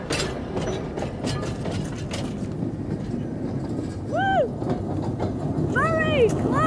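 A train on the Bennett Brook Railway rumbles along steadily with rhythmic clanking, while a couple of high whistling tones sweep in near the end.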